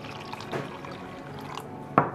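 About half a cup of water pours into a blender already holding aloe vera gel, cumin and mint leaves. It makes a short, soft splashing pour with a few faint knocks and a sharper clatter near the end.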